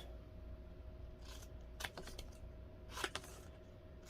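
Scissors snip paper for a bee-themed Club Scrap card, a few quiet, separate crisp cuts over a faint steady background hum.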